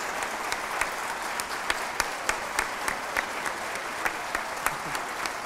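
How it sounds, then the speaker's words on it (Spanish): Steady applause from a conference audience at a plenary session on school libraries, dense and continuous with sharper individual claps standing out near the front, with no voices over it. "Este aplauso que me brindan a mí es un aplauso que le están brindando a mis tías, profesoras, normalistas"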